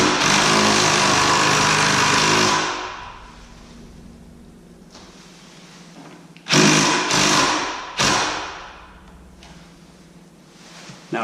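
A motorized lift raises a 2014-or-newer motorcycle into the air, its motor droning steadily for a few seconds, then falling quiet before two more short loud bursts of whirring, close by and without talk.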